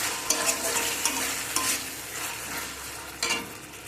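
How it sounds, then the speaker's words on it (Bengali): Sauce being stirred into vegetables frying in a pan for a homemade soy chilli dish, a steady close sizzle with repeated scraping strokes of a spoon against the pan. "এর মধ্যে এখন আমি এই সসটা দিয়ে দেব। দিয়ে সব কিছুকে মিক্স করে নেব।"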